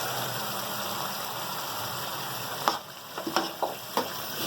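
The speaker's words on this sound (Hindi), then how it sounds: "ये देखें कि हमारा जो कीमा पक रहा है, अब उसमें ये पूरी की पूरी मैं पालक डाल दूँगी" Spinach goes into keema cooking in a pan for palak qeema, giving a steady close sizzle, then a few sharp spoon scrapes and clatters as the mixture is stirred.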